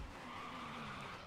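Tyres squeal and skid in a steady, sustained smear as a car slides in the F1 2015 racing game, a continuous tearing hiss with no clear impact heard.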